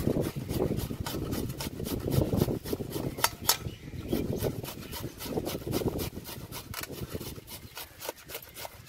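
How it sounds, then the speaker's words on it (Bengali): Peeled raw mangoes are rubbed against a hand grater in quick, uneven rasping strokes, close and moderately loud, continuing steadily without talk. "গ্রেটার দিয়ে ভালো করে গ্রেট করে নেব"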